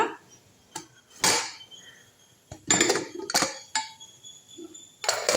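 Clinks and clatters of dishware up close, with a few sharp knocks as a plate is set down to cover a pot of cooked toor dal.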